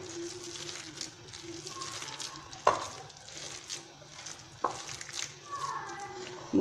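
A spoon stirs and mixes food in a pan for Algerian tajine, with soft scraping strokes, a couple of sharp knocks against the pan, and quiet sizzling underneath.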